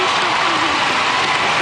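Audience applause at a figure skating ice dance free dance final at the 2006 World Championships: dense, loud clapping from a large arena crowd, sustained throughout, with a commentator's voice over it.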